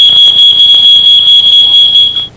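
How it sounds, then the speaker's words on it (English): A household smoke detector blares a piercing, continuous high-pitched alarm tone, very loud and close, pulsing slightly before cutting off at the end. "The smoke detector goes off"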